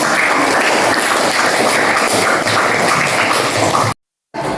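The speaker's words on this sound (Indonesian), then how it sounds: "Silakan dulu tepuk tangan sekali lagi untuk" An audience claps hands together at a school academic supervision discussion session, loud, dense and continuous, then cutting off abruptly into silence before resuming briefly at the very end.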